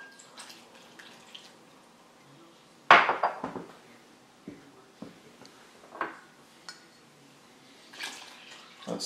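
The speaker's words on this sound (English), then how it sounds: "Now we're going to add our water." Water is poured into a bowl of deer jerky marinade seasoning with curing salt, a quiet splashing pour with clinks and drips that comes in short bursts, faint against a quiet kitchen.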